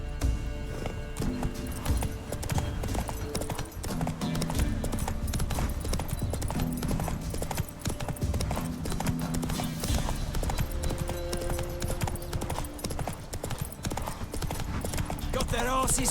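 Horse hooves clip-clop steadily at a trot in The Witcher 3, a continuous rhythmic beat close by over game music, with a voice speaking and a brief whinny.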